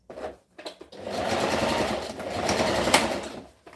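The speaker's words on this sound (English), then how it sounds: "I'm gonna stitch about half an inch away" A sewing machine stitches a V-neck shirt, running steadily and fairly loud in two long bursts after a few short starts, with brief pauses between.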